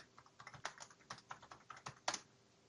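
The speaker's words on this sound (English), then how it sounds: "Next step, type in the name of your server" Keys on a computer keyboard tapped in a quick, uneven run of light clicks as a server name is typed for a Windows Server 2012 Essentials client install, close and quiet with no talk.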